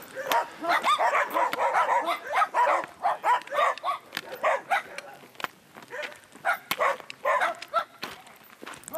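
Several dogs bark in rapid, overlapping bursts, a busy chorus of yaps and woofs that keeps going without pause throughout.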